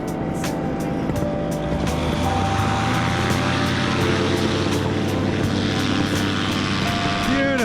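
A light aircraft takes off from a short runway, its propeller engine droning loud and steady while the pitch climbs as it gathers speed.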